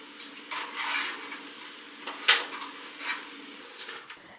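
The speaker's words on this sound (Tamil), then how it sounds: "இப்போ தண்ணியை ஃபுல்லாக நல்லா வடிச்சிட்டு இதை வந்து நம்ம நல்லா வாஷ் பண்ணி விட்டுறலாம்" Water is poured off boiled potatoes in a series of soft splashing gushes with a couple of sharper knocks of the pot, close by and fairly quiet.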